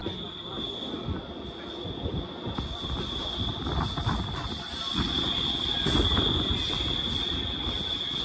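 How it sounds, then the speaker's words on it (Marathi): Miraj-Tirupati Haripriya Express train running through forest, a steady rumble of wheels with a continuous high metallic squeal, rising slightly louder toward the end. "आपली ट्रेन त्या जंगलाच्या मधनं जाते."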